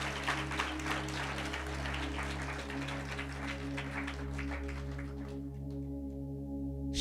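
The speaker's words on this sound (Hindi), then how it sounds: "समझ में आया तो जोरदार ताली बजाकर प्रभु को महिमा दे।" A church congregation at a Sunday worship service claps in a dense, sustained round of applause over a steady droning keyboard tone, the clapping thinning out after several seconds.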